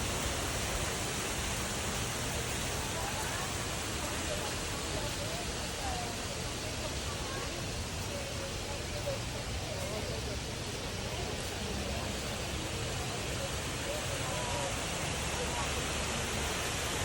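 Steady broadband rush of a small artificial waterfall in the landscaped grounds outside the White Temple in Chiang Rai, Thailand, continuous and fairly close throughout with no talk over it.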